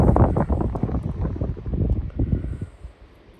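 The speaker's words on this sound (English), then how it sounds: "it's really windy here" Strong wind by a river buffeting the microphone in loud, rumbling gusts outdoors, easing slightly toward the end.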